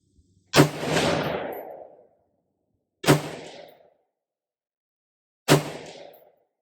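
A forged 13.7-inch mid-length 5.56 rifle fired at 100 yards on an outdoor range: three loud, sharp shots spaced about two and a half seconds apart, each with a fading echo tail and silence between.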